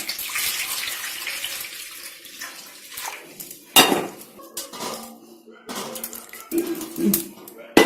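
Warm water poured into a bowl for a foot soak, splashing and clinking against the bowl in uneven bursts close by, with a few sharper knocks, while a person talks over it.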